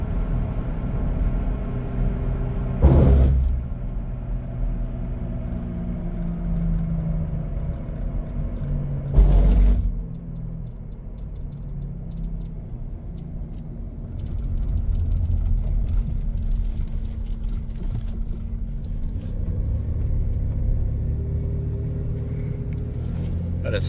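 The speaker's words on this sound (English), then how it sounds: "I hear a different noise now that the tires are rotating the opposite direction." Front right wheel of a 1997 Dodge Caravan LE with suspected worn wheel bearings and brakes, heard while driving: a steady low road rumble and drone with two brief louder thumps and no talk.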